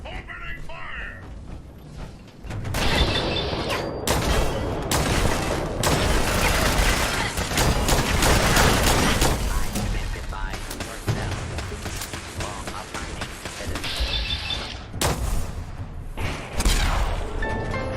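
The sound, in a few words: gunfire from the video game Fallout 4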